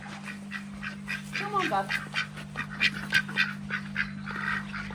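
Male farm ducks quack in a short series of raspy calls over a steady low hum outdoors, close by, and someone speaks briefly to them.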